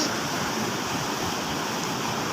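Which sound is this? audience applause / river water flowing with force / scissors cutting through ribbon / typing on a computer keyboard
river water flowing with force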